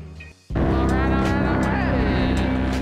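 A paramotor engine throttles up sharply for a takeoff at high elevation in cold air, jumping from a quiet idle to a loud, steady, droning roar that holds close and constant, with a faint whine rising over it.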